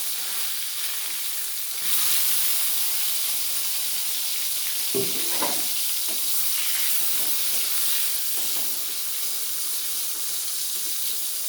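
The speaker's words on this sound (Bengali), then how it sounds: "এবার আমি বেগুনগুলো আগে ভেজে নেব" Brinjal pieces fry in hot oil in a wok, giving a continuous even hiss of sizzling with a couple of brief clinks near the middle.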